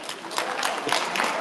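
A town hall audience in Harris County applauds, a diffuse, continuous patter of many hands heard briefly at moderate level.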